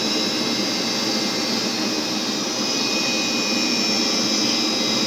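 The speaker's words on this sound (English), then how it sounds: "as soon as the air flows, the turbine rotates inside this and power is generated" A small turbine spinning in air flowing from factory smoke to generate electricity, producing a steady, loud high-pitched whine and rushing airflow, constant throughout with no talking.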